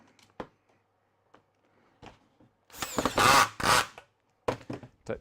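A power drill drives the last screw while fitting hinges, heard as a few short bursts of whirring and grinding close by with quiet gaps between them, loudest through the middle.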